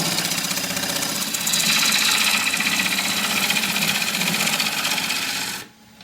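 A powered saw runs with a steady, loud mechanical drone while cutting a wooden bowl blank from a flitch, then the motor cuts off abruptly near the end.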